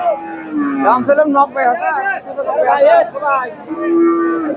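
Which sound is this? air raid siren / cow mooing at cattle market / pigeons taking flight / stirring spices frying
cow mooing at cattle market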